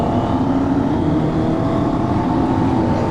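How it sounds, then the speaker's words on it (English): A BMW R1250GS Rallye motorcycle engine drones steadily at close range on an open road, a constant low, throaty hum with little variation and no voices. "I'll give you a little flyby later when we get a straight road and you can hear the engine"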